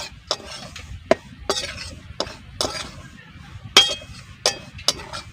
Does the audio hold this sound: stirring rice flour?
yes